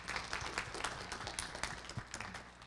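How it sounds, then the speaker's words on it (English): Quiet, thin applause from the audience at a cybersecurity and smart-cities panel discussion, with a scattered patter of hands that stays soft and fairly distant throughout. "I'd also like to give a warm round of applause for our panelists."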